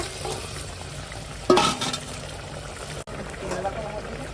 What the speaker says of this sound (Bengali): এখন এই ভেজে রাখা মাছ দিয়ে দেব